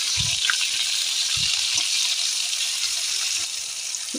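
Dried chillies crackle in hot oil in a kadai, giving a steady, close hiss with a few low thumps from the pan along the way.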